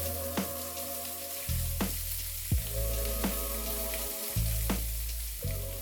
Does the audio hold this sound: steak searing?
yes